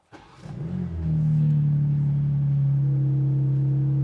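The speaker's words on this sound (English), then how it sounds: "let's have a listen to what this car sounds like on startup" A BMW M4 Competition engine cranks and fires up, settling into a loud, steady, deep idle rumble close by.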